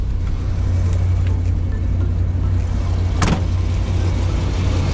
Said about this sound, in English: this is the engine running. It's very loud.